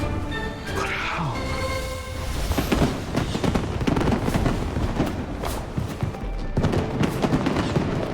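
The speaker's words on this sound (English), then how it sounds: "A fireworks show?" Fireworks show in the video game Genshin Impact, with a rapid, dense run of crackling bursts and booms that holds steady at a loud level throughout, and talk from people mixed in.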